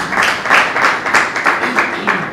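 An audience claps together in a steady, rhythmic burst of applause, loud and close, lasting a couple of seconds.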